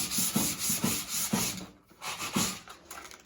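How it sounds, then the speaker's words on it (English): Furniture piece being scuff sanded by hand with Norton sandpaper before painting, a steady rhythmic back-and-forth rubbing with about five close strokes, a brief pause midway, no talking. "you scuff sand before you put paint on"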